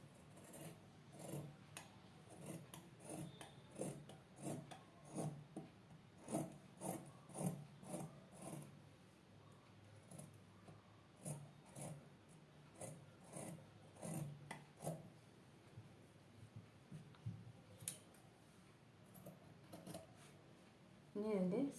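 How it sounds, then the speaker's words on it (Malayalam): Scissors cut through nighty fabric in a series of short crisp snips and rasps, faint and close, with quiet talking around the cutting. "ഇനി നമുക്കിതൊന്ന് കട്ട് ചെയ്തെടുക്കാം."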